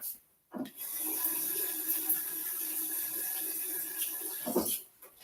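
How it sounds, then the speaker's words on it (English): A kitchen tap runs steadily in a sink for several seconds while hands are washed under it, a close, even splashing hiss that starts and stops with brief rubbing. "And I'm going to wash my hands."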